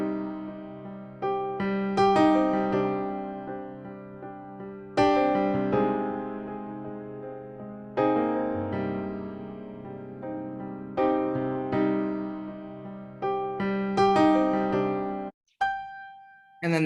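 A power ballad backing track for a stage musical, built from sustained piano-like chords struck about every three seconds over low bass. Each chord rings out and decays. The track ends near the close with a brief different tone and no speech.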